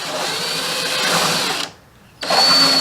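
A power drill bores rivet holes in a wide body kit, whining loud and close in a long steady run, stopping briefly, then starting again for a second burst.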